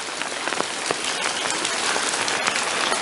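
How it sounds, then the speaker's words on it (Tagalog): Heavy rainy-season rain pours on and around a house in the Philippines, a loud, dense, unbroken patter with crisp drop impacts close by and no voices. "September 2 ngayon, umuulan."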